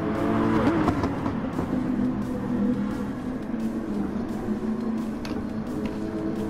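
Race cars from a Super GT round at Fuji in Gran Turismo Sport, GT-R and AMG among them, drone and whir steadily through the corners, a dense continuous engine roar with slight pitch shifts and no talk over it.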